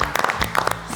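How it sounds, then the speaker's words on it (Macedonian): Short burst of applause from a studio group cheering contestants on a Macedonian home-cooking elimination show featuring kofte, with dense overlapping claps at close range lasting about a second. "Голем аплауз."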